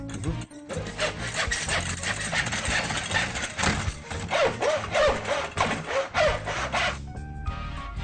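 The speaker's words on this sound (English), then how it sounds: "the miter saw comes in very handy for that" A miter saw cuts short wooden frame pieces for a bookshelf unit in a workshop, giving a loud, sustained sawing roar with a rough, rasping texture that runs almost continuously, eases off briefly near the end, then returns.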